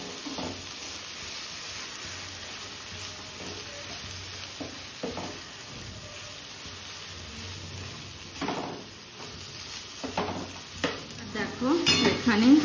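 Mashed taro paste slowly frying in a pan with spices, with a soft, steady low sizzle under intermittent clinks and scrapes of a spoon stirring against the pan, growing busier toward the end.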